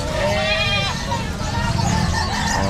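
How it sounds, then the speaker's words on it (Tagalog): Goats bleat loudly and close by at a livestock market in Bocaue, Bulacan, with several wavering cries overlapping amid crowd noise and voices talking. "tapos ito pa kay Kuya Jeff, yung mga kambing yan"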